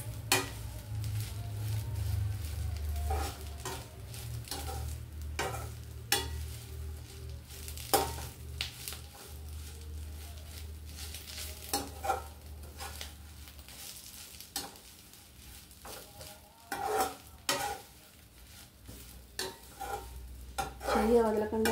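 Curry leaves fry in a pan while being stirred continuously, with a steady low sizzle and repeated scraping clinks of the spatula against the metal, close and fairly busy throughout.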